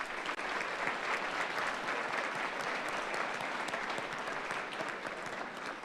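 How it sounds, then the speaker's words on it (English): Steady, dense audience applause for a junior varsity squad at a school winter sports awards ceremony, sustained and even for about six seconds with no talk over it. "Can I please have a round of applause for our JV squad?"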